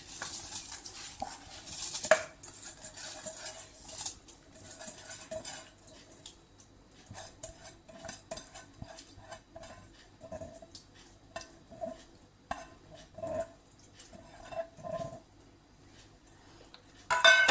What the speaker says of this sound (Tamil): அரிசியை சேர்த்து நல்லா மிக்ஸ் பண்ணி விட்டுட்டு